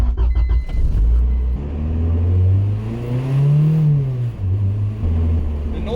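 Cabin road noise and engine drone inside a 1996 Acura Integra with its interior stripped out, a loud, steady rumble with the pitch rising and falling as the car accelerates and eases off during a drive.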